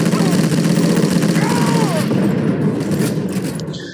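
Loud gunfire in the video game Sniper Elite, during a Berlin mission, rattles in dense bursts over a constant engine drone, with a brief whistling sweep in the middle and the noise easing near the end.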